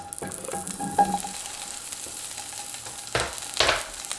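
Tempeh dropped into a hot pan sets off a quiet, steady sizzle, broken by a few louder clatters and scraping sounds as the pieces are moved around.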